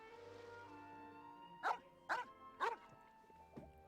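Dog barking in a fantasy video game, three sharp evenly spaced barks followed by a fainter fourth, heard over a quiet steady musical background hum with no talking.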